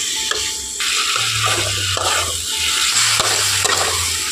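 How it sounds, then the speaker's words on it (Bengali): Snake gourd (chichinga) pieces frying on high heat in a pan for a curry, a steady close sizzle with bursts of stirring and scraping, no voices. "এই চিচিঙ্গাগুলোকে এই হাই হিটে জাল দিয়ে ভেজে নিতে হবে।"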